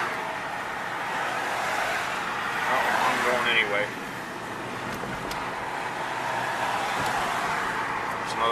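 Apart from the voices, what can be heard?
heavy road traffic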